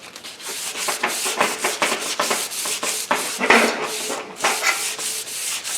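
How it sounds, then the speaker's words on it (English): Sandpaper rubs the coating off a wooden axe handle in quick back-and-forth strokes, a close, rhythmic scratchy rasp with no voices. "I typically use a sandpaper in the 150 to 400 range."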